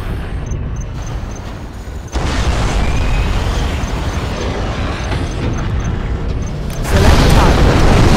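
A nuclear missile explosion in C&C Generals, a loud sustained roaring rumble that swells in two stages and stays heavy to the end.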